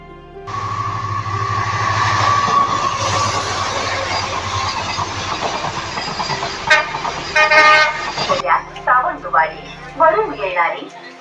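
The Sawantwadi–Diva Express sounds a long, loud horn for about eight seconds over the rumble of the train at a station in monsoon rain. Voices and station noise follow once the horn stops.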